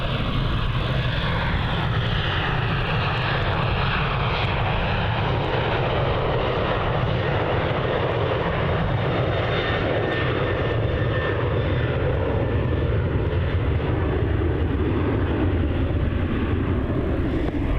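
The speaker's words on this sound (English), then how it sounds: "On departure there we have Virgin Australia flight VA 1749 off to Hamilton Island" A Virgin Australia airliner departing Melbourne Airport on a flight to Hamilton Island gives a loud, steady jet engine roar that holds for the whole stretch, with no talk.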